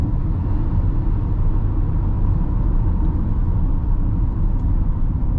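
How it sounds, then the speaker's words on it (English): A Haval H6 with a dual-clutch gearbox accelerates hard from 0 to 100 km/h with some wheel spin, giving a loud, steady engine and road rumble heard from inside the cabin with no talk. "that dual clutch is shifting very nice"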